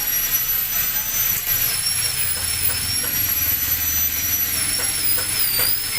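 A lathe turns a 520 motorcycle sprocket from a KLX150, cutting it down for a Euro 150 conversion, with a loud, steady whirring machine drone that runs unbroken throughout and no voices.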